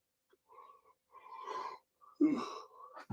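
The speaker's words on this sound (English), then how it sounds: "I got a yawn." A drawn-out human yawn close to the mic, rising and falling over about three seconds with a breathy, groaning tone, ending in a short exhale.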